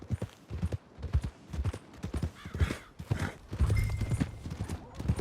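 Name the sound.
horse hooves clip-clopping near stables, Red Dead Redemption 2 video game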